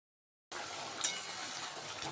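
Onion, ginger, garlic and partly boiled potatoes fry in oil in a pan for aloo biryani. A soft, steady sizzle starts after a brief silence, with one light clink of a utensil partway through.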